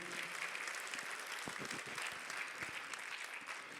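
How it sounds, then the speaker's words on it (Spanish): Church congregation claps together during a Spanish-language worship service, a brief dense burst of applause filling a large room, steady and moderately loud with no voices. "Un aplauso al Señor"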